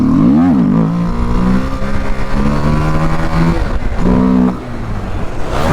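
A KTM Duke 250 motorcycle revs hard during a wheelie, its engine note climbing and falling through several loud, close throttle bursts before dropping to a lower drone.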